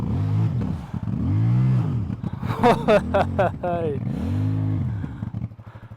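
A CF Moto 450 MT motorcycle ridden through a trail section, its engine revving up and down in repeated swells close by, with voices talking over the engine in the middle.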